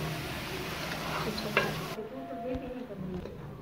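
Onions frying in a pan for a desi-style aloo chicken with cumin and whole spices, a steady close sizzle with a brief stirring scrape midway.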